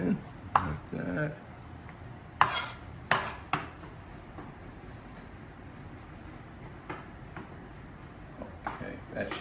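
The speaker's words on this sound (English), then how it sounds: "we're gonna finish chopping this garlic up" A knife rough-chops garlic on a cutting board. Sharp, close taps come in irregular bursts separated by quieter pauses.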